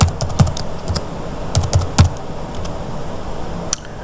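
Close computer keyboard typing in a quiet room, a few scattered bursts of key clicks with pauses between them, no talk.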